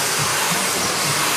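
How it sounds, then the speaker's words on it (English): An eco-friendly blow dryer runs steadily, with a loud, close, continuous whooshing roar from its airflow and motor and no voices. "for a blow dryer with no radiation that gets as hot as this one gets, I think this is a great blow dryer."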